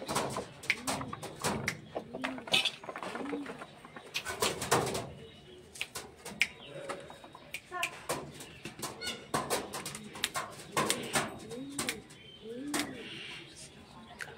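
Pigeons of Andhra and tiger-blood stock coo and flutter in a loft, with soft repeated coos, scattered wing flaps and light knocks, while someone talks intermittently nearby.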